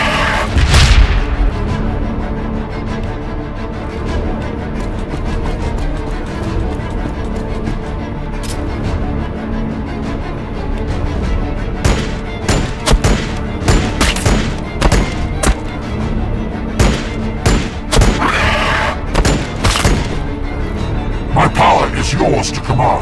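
Gunfire and explosions in the Warhammer 40,000: Battlesector PC strategy game during a battle. Dense, loud volleys of shots and booming impacts arrive in rapid bursts over a continuous rumbling battle bed, growing sharper and more clustered in the second half.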